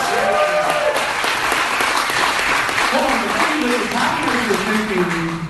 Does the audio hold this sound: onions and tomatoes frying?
no